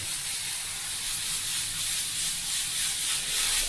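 Steady hissing spray of water rinsing brushes clean, close and continuous, with a gentle pulsing rhythm and no voices.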